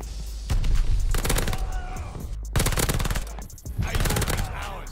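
PPSH-41 submachine gun firing in Call of Duty Vanguard, loud rapid automatic bursts broken by short pauses, with game sounds mixed in.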